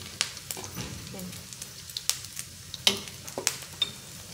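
Pork adobo ingredients sautéing in a hot pan give a soft, steady sizzle, with scattered clinks and scrapes of a utensil against the pan as a voice talks quietly.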